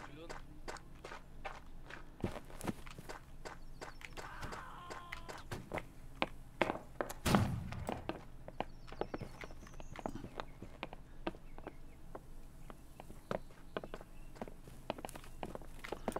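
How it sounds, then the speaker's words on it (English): Footsteps thud across a roof in the Holdfast video game, many overlapping irregular steps tapping and clomping overhead, with one louder bump midway and a constant low hum underneath. "I can hear all the footsteps up on the roof"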